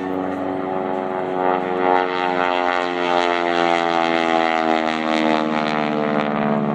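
A modified P-51 Mustang propeller fighter weighing over 3,000 pounds pulls out of an aerobatic maneuver at 4.5 G, its engine and propeller droning loud and steady throughout with a rich, continuous harmonic roar.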